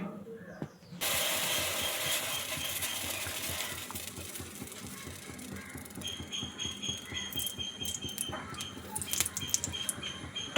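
Chilies hitting hot coconut oil in a pan, a sudden loud sizzle that settles into a steady crackling hiss, with stirring and faint clinks later on.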